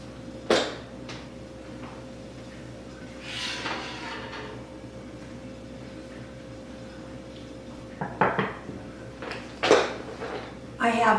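A baking pan holding a cheese mixture comes out of a home oven with a few scattered metallic clatters and a clunk of the oven door, against a quiet kitchen background with a person talking.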